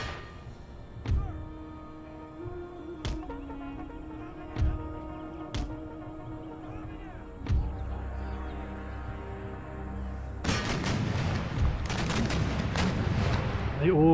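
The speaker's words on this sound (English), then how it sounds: "My lone howitzer that's going to be churning out as much quicklime as it can shoot." Howitzer artillery in Empire Total War: several separate booming shots spaced a second or two apart, then a dense burst of overlapping gunfire and cannon blasts, with light battle ambience between.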